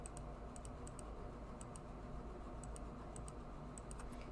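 Computer mouse clicks in Premier+2 embroidery software, a run of sharp, faint ticks in irregular pairs and singles over a steady background hum.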